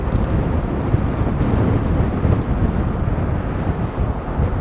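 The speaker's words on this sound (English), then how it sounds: "it is super windy out. We got 20 mile an hour winds coming straight at me" Strong wind of about 20 mph roars and buffets the microphone in a steady, loud, low rush with no pauses and no voices, heard riding a Caroma C1 electric scooter up a steep slope.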